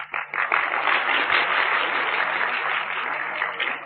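An audience at a spiritual gathering breaks into steady, dense applause that swells quickly and carries on evenly at moderate volume for several seconds.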